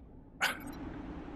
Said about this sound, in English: So there are a couple of growlers and a growler cub.